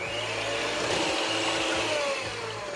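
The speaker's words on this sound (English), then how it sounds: "Mix with your mixer." An electric hand mixer whirs steadily through a batter of whole milk and salt, a loud continuous motor drone with a grinding edge that holds even throughout, no voices.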